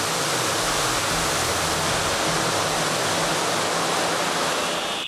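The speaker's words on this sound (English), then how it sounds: "Here, the water is mixed with a foaming agent at the last possible second before discharge." A foam fire suppression system discharging inside an aircraft hangar, with water mixed with foaming agent and sprayed from large ceiling nozzles, giving a loud, continuous broadband rush like a waterfall that holds steady for the whole stretch.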